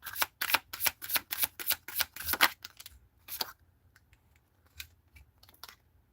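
Tarot cards being shuffled by hand, a quick run of crisp riffling snaps that thins out into a few scattered soft flicks and taps, close and fairly quiet.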